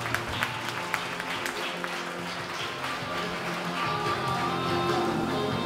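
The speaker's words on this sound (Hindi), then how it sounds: "तीनों बच्चों के लिए जोरदार तालियां" A hall audience at a YMCA talent hunt award distribution claps for three children, dense steady applause that carries on for several seconds and rises slightly toward the end.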